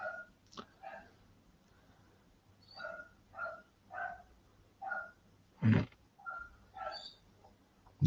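A dog barks repeatedly in the distance, about eight faint, evenly spaced barks with one louder, closer sound near the end, over a quiet indoor background.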